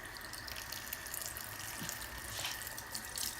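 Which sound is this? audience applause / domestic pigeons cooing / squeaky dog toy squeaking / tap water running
tap water running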